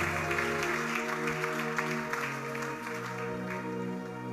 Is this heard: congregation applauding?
yes